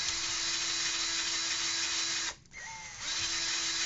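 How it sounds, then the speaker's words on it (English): A power drill whirs steadily at close range while cleaning Schofield revolver parts, briefly dipping and spinning down before revving back up to a constant whine. "I'm just kind of going in a circular motion while I am using the drill."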